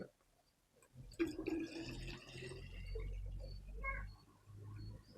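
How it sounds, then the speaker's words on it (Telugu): Plain drinking water poured into a container, a soft gurgling fill that starts after a quiet second and carries on faintly and close for the remaining few seconds. "మనం దీంట్లో పోస్తున్నాం"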